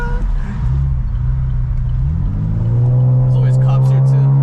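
Riding inside a Camaro V6 with a muffler delete on a night drive, the exhaust gives a loud, deep rumble that swells into a rising rev, with people talking over it.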